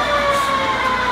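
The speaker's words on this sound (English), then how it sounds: "That's the turbine spinning up" A jet-powered motorbike's turbine spinning up, a loud, steady high-pitched whine with layered tonal hum holding without pause, close by.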